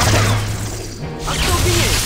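A dense magical whoosh and crackling burst from the Stupefy stunning spell in Harry Potter and the Half-Blood Prince video game, loud and sustained, with a brief dip before the effect swells again.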